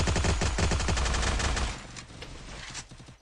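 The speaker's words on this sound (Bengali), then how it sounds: "সবগুলারই কি স্নাইপার দিয়ে মারতেছে নাকি?" Rapid gunfire in a video game, with rooftop shooting in a custom match: a dense burst of loud, closely spaced shots for over a second, then quieter scattered shots and rumble trailing off, with no talk.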